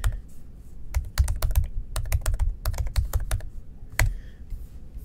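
Fingers type a tmutil command on a Mac keyboard, tapping out quick bursts of crisp, close keystrokes with short pauses between runs, ending in a single firmer press.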